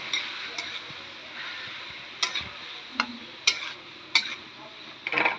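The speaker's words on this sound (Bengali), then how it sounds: "এবার নাড়িয়ে দেব।" Green peas being stirred in a pan with a spatula, 250 grams of them, a soft low sizzle under a few sharp scraping and tapping strokes against the metal, spaced out and close by.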